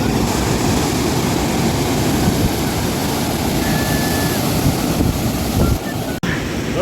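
Steady roar of the Gallu waterfall and its river flowing, a constant broadband rush close by with wind buffeting the microphone and faint background voices.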